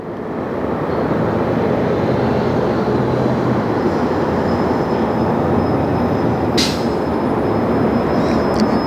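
A jet aircraft lands on runway 24 left at Los Angeles International Airport, giving a loud, constant roar that swells in the first second and then holds steady and broad throughout, with no voices.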